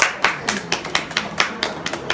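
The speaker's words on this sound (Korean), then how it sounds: "오늘 오신 서원석 동지에게 큰 박수 부탁드립니다" Audience at a disability-rights gathering clapping, a handful of distinct rhythmic claps in a fairly steady beat, close and moderately loud, like a small group.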